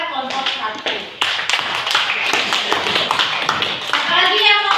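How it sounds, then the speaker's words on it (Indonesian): A classroom group claps for the first group of students during a teachers' coaching session, sharp hand taps building into brisk, fairly close clapping, with some children's voices and shuffling mixed in. "tepuk tangan buat kelompok 1"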